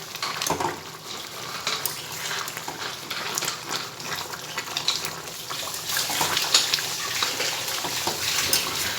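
Chicken is braised and stirred in a pan for a home birthday meal, with a dense, steady sizzle and a wet bubbling hiss that holds at a fairly loud level throughout, close by and without talk.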